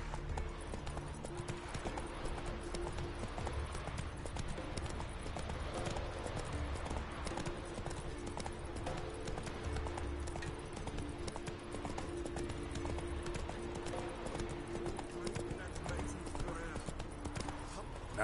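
Roach, Geralt's horse in The Witcher 3 game, gallops with a fast, continuous clip-clop of hooves against steady game ambience and background voices.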